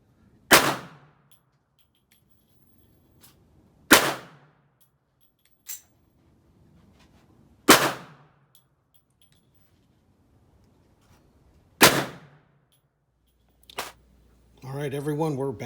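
A pistol fitted with an ADE red dot sight fires single sharp shots outdoors at a range, spaced several seconds apart with quiet gaps between them, followed by someone talking at the end.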